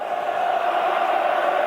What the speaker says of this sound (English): Listen to that chant.